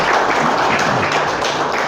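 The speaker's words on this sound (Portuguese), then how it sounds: "Quem crê nisso pode aplaudir bem forte o Senhor" A church congregation claps hard together during a worship service, a dense continuous wash of many hands applauding at close range without pause.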